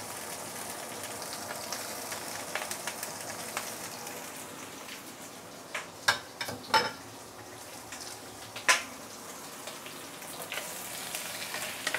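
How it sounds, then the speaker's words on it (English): Prawn shells and heads frying in ginger-flavored oil, a soft steady crackling sizzle with a few sharper pops and splatters near the middle, heard alone. "you want to saute this for a couple of minutes to really make sure all the prawn heads is fully cooked"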